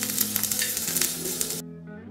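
Sliced onions dropped into hot oil with roasted red chilli, sizzling loudly and stirred for a moment before the sizzle abruptly drops to a quieter, steady frying hiss.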